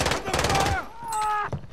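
Rapid bursts of gunfire from a video game, loud and dense in the first three quarters of a second, then a quieter stretch of ringing game tones with a few sharper hits near the end.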